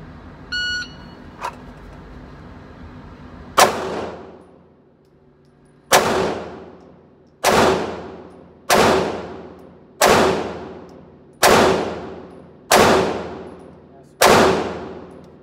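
A Smith & Wesson M&P Shield Performance Center pistol firing Hornady Critical Defense 115 grain rounds outdoors, eight loud sharp shots with ringing decay, the last six in an even rhythm about a second and a half apart, after a few faint beeps.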